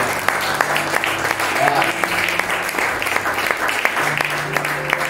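A church congregation cheers and claps during a morning thanksgiving service, with steady applause and raised voices filling the room throughout.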